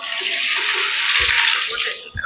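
Water pours steadily into a pressure cooker while mutton paya curry is being made, a broad continuous splashing rush that holds nearly unbroken before tapering off at the end.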